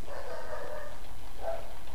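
A dog barks a couple of times in a short, faint burst against a steady hum.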